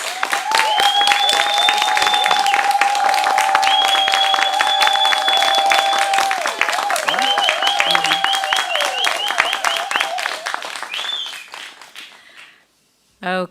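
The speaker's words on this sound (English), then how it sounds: "May I have another round of applause?" Studio audience applause at a spelling bee championship, dense steady clapping over a host's voice with tonal music running beneath, fading out near the end before a brief final burst.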